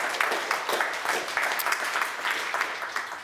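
Audience at a Chatham House panel event on China-EU climate cooperation applauds the panel, a steady wash of hand claps filling the room at moderate level with no talk over it.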